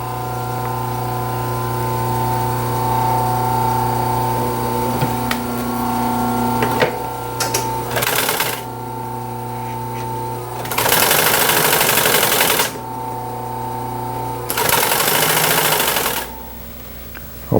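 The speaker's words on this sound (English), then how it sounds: "I'll increase my stitch size to sew the cording." A sewing machine stitches upholstery cording for a 1930s Art Deco chair restoration, running in three loud bursts of fast mechanical whirring, with a steady electrical hum and tonal drone underneath.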